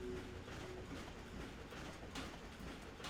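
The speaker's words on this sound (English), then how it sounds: "Hey, the train!" A train rolls past in the Ratchet & Clank video game, a quiet, steady rumble with faint rhythmic clatter and a few brief tonal squeals.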